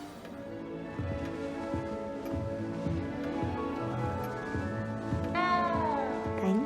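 A cat meows in the Hogwarts Legacy video game, its rising, wavering call arriving late over a busy bed of game music and ambience.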